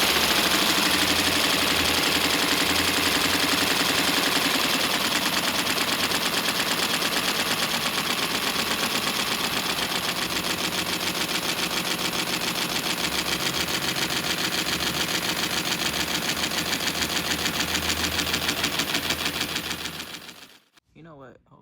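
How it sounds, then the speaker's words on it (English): Miniature inline 6 engine running at idle, a loud rapid staccato chatter of firing pulses, steady and close, before cutting out abruptly near the end. "this is the inline 6. Now let's hear it idle before we get out of here."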